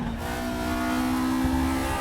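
A race car in RaceRoom Racing Experience revs hard toward 9,000 RPM, its loud engine note rising steadily and sustained with no talk over it.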